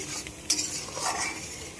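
Masala with chicken pieces being stirred and fried in a pan for a spicy desi chicken curry, a spoon scraping and clinking against the metal over a soft, close sizzle.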